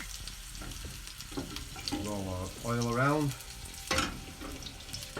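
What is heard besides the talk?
sage leaves sizzling in hot oil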